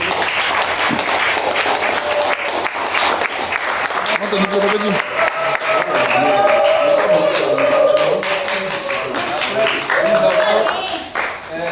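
A congregation at a church ceremony awarding Bible diplomas and certificates claps steadily for a recipient, the applause running for several seconds under a speaking voice.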